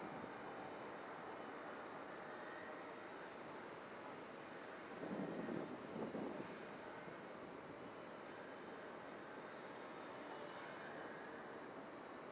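Wind gusts buffet an XK K100 RC helicopter in flight outdoors, a steady broadband rush with a slightly louder gust midway, no voices.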